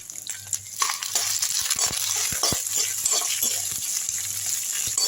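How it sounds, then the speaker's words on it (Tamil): Dried red chillies frying in oil for a garlic chutney: steady bright crackling sizzle throughout, with short clinks and scraping stirs near the pan and a low hum running underneath. "அதில் காஞ்ச மிளகா போட்டுக்கோங்க."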